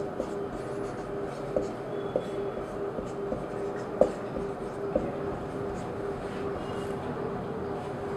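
Chalk or marker writing on a classroom board during a Hindi grammar lesson, with faint scratching and scattered light taps over a steady low room hum.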